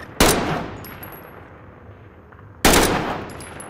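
Two sharp gunshots in Call of Duty: Modern Warfare on the Caldera map, spaced about two and a half seconds apart, each loud and close with a long ringing decay.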